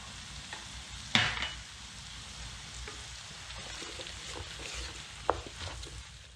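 Chicken succotash with cream and butter added gets stirred in a pan, a faint simmering hiss under a couple of sharp utensil clinks.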